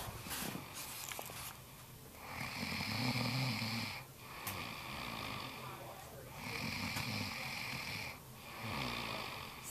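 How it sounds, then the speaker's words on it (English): A woman snoring while asleep, several slow rhythmic rasping snores, each swelling for a couple of seconds and then pausing, fairly faint and close. "I'm the only one who snores."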